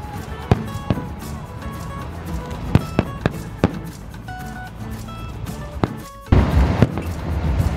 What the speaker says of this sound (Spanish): Y siguen aventando cohetes